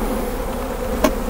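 Honey bees buzz around a beehive in a steady, close drone, with a brief sharp tick near the end and no voices.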